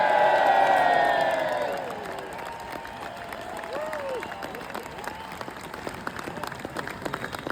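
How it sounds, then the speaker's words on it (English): Crowd at a farmers rally cheers and applauds loudly at first, then the roar eases after about two seconds into scattered clapping, whoops and crowd chatter that carry on underneath. "And Victoria Atkins, the loudest cheer you've got."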